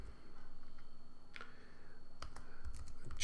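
Computer keyboard keys tapped steadily while writing program code, a quiet run of light clicks with brief pauses, close and alone with no talking.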